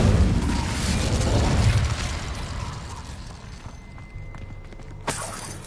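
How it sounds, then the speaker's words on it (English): Incendio fire spell cast in the Hogwarts Legacy video game, a loud roaring burst of flame and crackle that fades over a few seconds, followed by a sharp brief magical pop near the end. "Incendio!"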